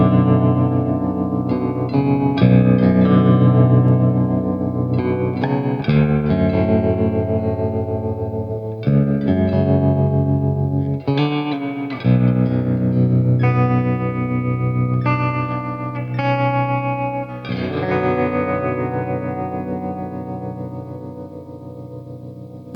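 A humbucker electric guitar runs through a Crazy Tube Circuits White analog tremolo and reverb pedal into an amp with its volume boosted for drive, playing sustained distorted chords that pulse with tremolo and trail off in reverb, loud and without talk.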